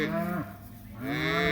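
Cattle on a drive moo close by, two drawn-out calls separated by a short pause, loud and clear with no talk.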